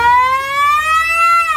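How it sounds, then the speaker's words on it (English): A loud, close siren wails in a steady rising tone with no voices over it, heard near a Honda car. "We got our own siren."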